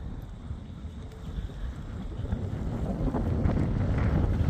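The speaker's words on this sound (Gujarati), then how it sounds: "અતિશય પવન છે" Strong wind buffets the microphone outdoors in Canada on a sunny day, a steady low rumbling roar that builds gradually and grows louder toward the end, with no voices.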